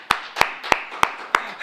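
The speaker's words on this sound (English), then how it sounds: "A clap." Six crisp claps land in a steady, evenly spaced rhythm, like a group clapping in unison at a lively family-reunion showcase event, loud and close with nothing else over them.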